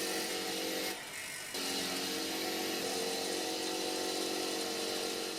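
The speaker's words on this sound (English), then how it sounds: "Before I welded on the threads, I gave them a good clean on the grinder." A bench grinder cleans up old metal threads from a BMW E30 325i chassis under restoration, giving a steady, loud grinding whine with a brief dip partway through as contact with the metal eases, then resumes.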